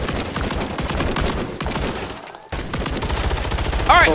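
Rapid automatic gunfire in the video game Call of Duty MW3 rattles nearly continuously in dense bursts, with a brief pause midway before the firing resumes loudly.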